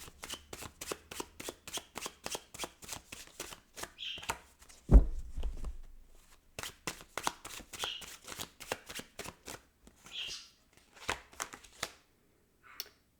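Tarot cards are shuffled in quick rhythmic riffles and snaps, close and crisp, with a brief thump midway and short pauses between bursts.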